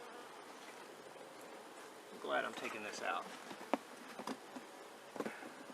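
Honey bees buzz in a steady close hum at an opened hive during an inspection, with a brief louder drone passing by and a person talking over them.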